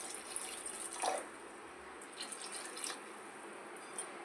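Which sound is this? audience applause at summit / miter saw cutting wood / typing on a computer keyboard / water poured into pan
water poured into pan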